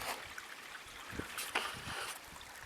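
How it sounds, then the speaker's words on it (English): A stream running across rural acreage near a gate, a soft steady trickle and gurgle heard up close with a few faint knocks and scuffs, no talking. "Can y'all hear the water?"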